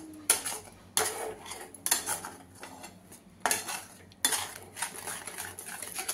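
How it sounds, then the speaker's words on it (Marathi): A spoon scrapes and knocks against a pan while thick khoa and sugar mixture is stirred, giving five sharp clatters at roughly one-second intervals over a low hum, with no talking. "अशा प्रकारे हलवायचं, त्याच्या गुठळ्या बनल्या नाहीत पाहिजे।"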